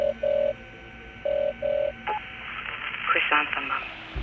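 A red cell phone keypad is dialed, giving several short electronic beeps in an uneven run, followed by a faint ringing tone and muffled sound under background noise.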